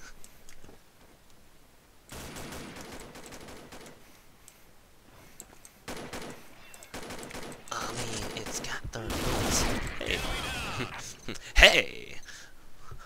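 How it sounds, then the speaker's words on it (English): Assault rifle fire in the game Combat Arms, bursts of automatic shots and clattering gunfire rising toward a loud peak near the end, with someone talking over much of it. "This is an assault rifle, right? I mean, it's got 30 bullets."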